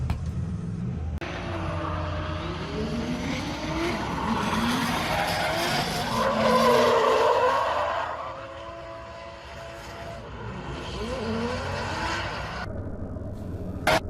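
A drift car spins out at the corner of the Teesside track, its engine roaring and tyres squealing and skidding loudly for several seconds, heard from the bank at trackside with the sound swelling and fading.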